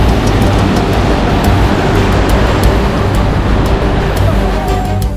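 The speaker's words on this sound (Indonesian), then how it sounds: "Ombaknya terkadang kencang, bahkan tinggi." Sea waves surge and crash on a rough shore where seaweed is gathered, a loud, constant roar of surf with heavy low rumble filling the whole stretch, no voices heard.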